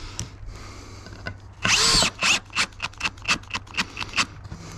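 A power drill drives a fastener screw through a washer into an exposed-fastener metal roofing panel, with a long loud whirring burst followed by a series of short, rhythmic pulses as the screw snugs down, close by and with no talk.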